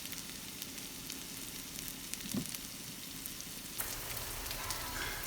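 Chopped onion with salt sautéing in a pan, a soft, steady sizzle with an occasional faint stir or clink, fairly quiet throughout.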